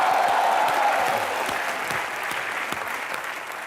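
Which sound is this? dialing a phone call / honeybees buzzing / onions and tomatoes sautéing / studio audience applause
studio audience applause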